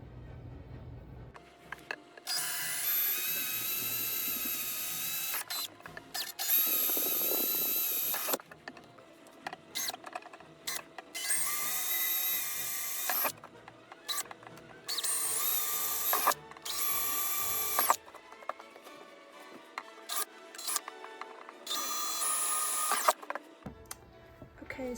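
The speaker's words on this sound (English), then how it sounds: "it's time to get to drilling." A drill bores ventilation holes through a cheap plastic tarantula enclosure, whining and grinding in repeated bursts of several seconds each with short pauses, close and fairly loud, with no talking.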